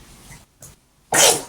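A single sharp, loud sneeze bursts out near the end after a few faint breathy sounds, close to the microphone in an otherwise quiet room.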